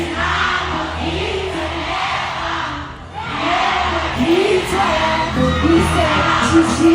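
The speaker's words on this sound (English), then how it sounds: "you hear the crowd, look on the crowd, looking at the stadium, looking at the arena" Stadium concert crowd roars and yells in a continuous wash of noise, dipping briefly at mid-clip before swelling back louder, with scattered shouts rising above the mass.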